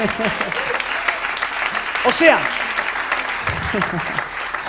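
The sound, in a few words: congregation applause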